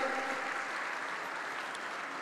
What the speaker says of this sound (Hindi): जोर से ताली बजाओ नारायण राणे के लिए।